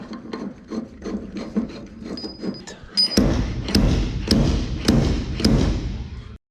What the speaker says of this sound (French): Tu prends le marteau à inertie On fixe le marteau ici.